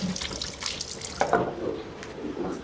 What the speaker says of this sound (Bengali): হাত ধুয়ে আসতেছি।